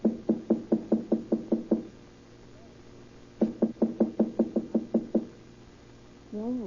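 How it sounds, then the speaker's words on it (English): Knocking on an apartment door in a 1934 radio crime drama, heard as two crisp rapid series of about eight knocks separated by a pause, followed by a voice beginning to speak. "Wait, I'll knock first."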